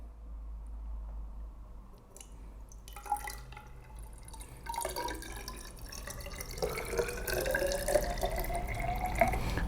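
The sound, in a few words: water poured into a measuring cylinder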